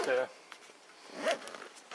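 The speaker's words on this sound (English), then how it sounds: "There's a zipper here that keeps it smaller" Zipper being pulled on a Wolfman motorcycle tank bag for a Suzuki TU250X, one quick close zip followed by a second longer drawn zip.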